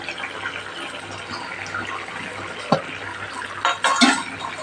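Potatoes stirred in hot oil in a pan for a dry potato bhaji, with broadband sizzle and a few sharp utensil scrapes and clinks against the pan near the end.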